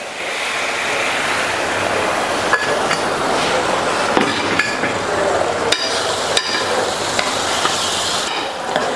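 A masala mixture for banana leaf idli is stirred in a pan, with soft continuous sizzling and scraping under occasional sharp clicks of a spoon against the vessel, close and steady.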